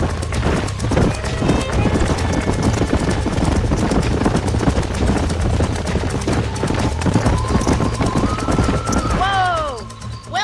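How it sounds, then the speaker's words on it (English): Horses trotting in Red Dead Redemption, steady rapid clip-clop of hooves on a ranch, loud and close for about ten seconds, with other game sounds mixed in and a brief horse whinny near the end. "These are fine horses."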